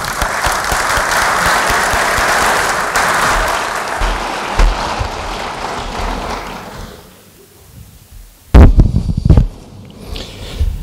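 A conference audience gives loud, sustained applause that fades out after about seven seconds, followed by a few sharp thumps and knocks.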